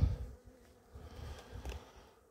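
Honey bees hum at an opened hive frame while a beekeeper sets up a split for raising queens; a low, uneven, close buzz swells and fades with no talk over it.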